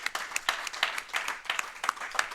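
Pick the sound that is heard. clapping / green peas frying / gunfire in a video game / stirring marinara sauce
clapping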